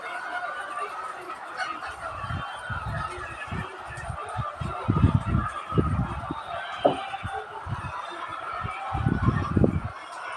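Poultry calling at a farm where chickens and ducks are kept, with repeated bursts of clucking and honking-type calls at close to moderate range over steady outdoor background noise.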